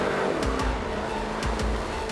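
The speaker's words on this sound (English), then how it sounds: "the Mercedes is actually a much more aggressive machine. The gear changes are faster, it revs faster." A Mercedes supercar engine revs aggressively, loud and close, in quick repeated surges with fast gear changes, about four sharp bursts over a steady high engine drone.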